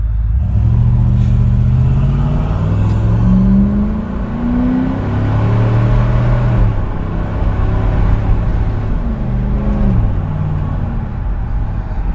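A 2005 Lincoln Aviator fitted with an 03-04 Ford Cobra engine, 99-01 Cobra fuel rail, stock injectors and stock fuel pump, runs steadily nearby with a deep rumble and rising, falling revs throughout.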